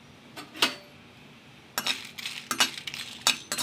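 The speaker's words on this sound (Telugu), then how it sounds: "ఈ విధంగా మనం కలుపుకుంటూ వేయించుకోవాలి" Dried red chillies are stirred and fried in hot oil for a roasted chana dal and coconut chutney, with a spoon giving several sharp scraping clinks against the pan over a low, steady sizzle, close and fairly loud.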